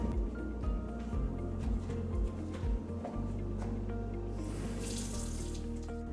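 Tap water runs steadily into a sink while hands are washed under it during home baking, a continuous near splashing stream with a faint low background hum, and nobody speaks.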